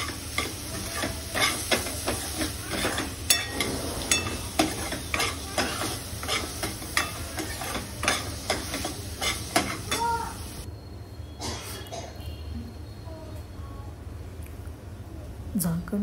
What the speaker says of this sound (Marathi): कांदा तेलावर परतून घ्यायचा आहे मऊ होईपर्यंत